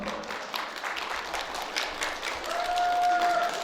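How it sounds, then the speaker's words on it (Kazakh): A crowd applauds at a besik toi cradle celebration in Kentau, with a steady, moderately distant wash of clapping throughout and a thin whistle-like tone near the end. "Не деген шапалақ мынау?"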